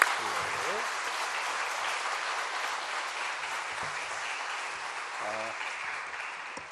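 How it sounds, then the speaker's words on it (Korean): A church congregation at a Bible study revival meeting gives a big round of applause welcoming a pastor, dense sustained clapping filling the room, with a few voices briefly audible over it. "큰 박수로 우리 박시정 목사님 모시겠습니다"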